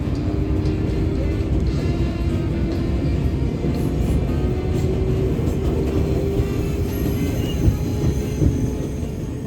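A New York City subway train on the 7 line in Queens rumbles steadily, a continuous low roar of wheels and motor with occasional rattles and squeals.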